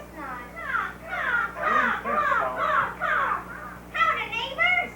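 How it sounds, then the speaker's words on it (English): Crow cawing in a rapid, continuous run of harsh, scratchy calls, loud and close, with a brief pause near the end before more calls follow. "can't even scare a crow."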